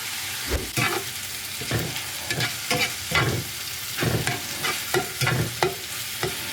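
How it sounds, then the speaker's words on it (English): Chopped turkey and melting cheese stirred and scraped across a hot griddle, with steady sizzling broken by repeated sharp metal spatula clacks and scrapes in an uneven rhythm, close and fairly loud. "We're gonna mix that up."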